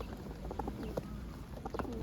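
Pigeons coo at a bird show in a village market, several soft, throaty calls scattered over a low background murmur of other birds and activity.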